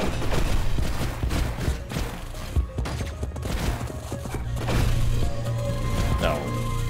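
An explosion with a wide blast radius in the video game Hyper Light Drifter produces a loud, dense burst of cracking, crumbling booms with rapid crackles that roll on for several seconds, and a voice can be heard underneath.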